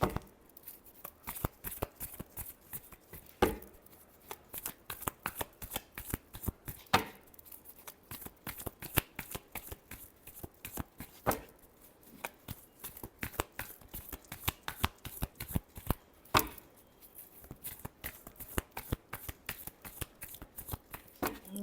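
A tarot deck is shuffled by hand in long sequences of crisp, rapid card riffles and slaps, close and clear, with irregular bursts and brief pauses across the whole stretch and no voices.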